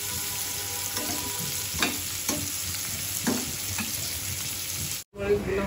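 Chilies and onions fry in a hot pan with a steady oily sizzle, punctuated by several sharp stirring scrapes, close up, ending with a brief cut-off before the hiss resumes.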